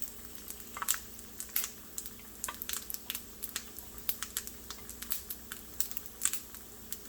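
An egg frying in a pan, with a faint steady sizzle under repeated light crackles and pops that are close and fairly quiet, and no talking.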